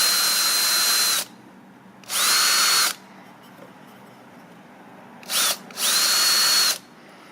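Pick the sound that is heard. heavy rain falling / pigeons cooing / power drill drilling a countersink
power drill drilling a countersink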